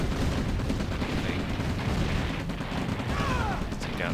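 Artillery fire in an OpenRA real-time strategy match, a steady dense rumble of distant explosions and gunfire with a few whistling streaks near the end, and no pauses throughout.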